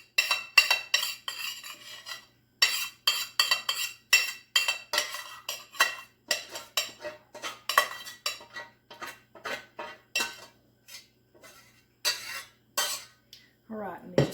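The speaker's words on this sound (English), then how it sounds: "Scrape this pot out, get all of this out." A utensil scraping out a pot while making strawberry crunch, with repeated short metallic scrapes and clinks in an irregular rhythm, close and crisp with quiet gaps between strokes.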